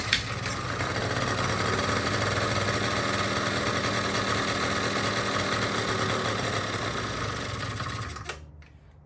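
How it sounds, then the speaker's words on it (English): The small two-stroke engine of a free scooter being turned into a mini bike runs with a loud, buzzy, rapid-firing drone close by. It holds steady for several seconds, then sputters and cuts out near the end. "I think this thing might be a freaking two-stroke."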